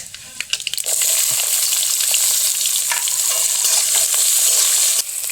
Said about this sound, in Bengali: পেঁয়াজটা ততক্ষণ লাল লালভাবে ভাজা হোক